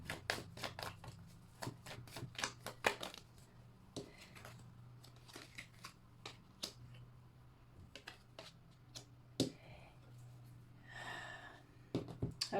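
Tarot cards shuffled and drawn during a reading, a run of quiet crisp card snaps and riffles with a soft breath near the end, no talking, steady low hum underneath.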